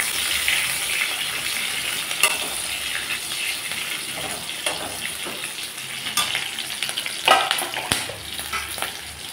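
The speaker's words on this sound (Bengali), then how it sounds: "রসুনটাকে আমি লাল লাল করে ভেজে নিয়ে দিয়ে দিচ্ছি 8-10টা চেরা কাঁচা লঙ্কা।" Crushed garlic frying until reddish with eight to ten slit green chillies in hot oil, a steady close sizzle with occasional sharp clinks of stirring.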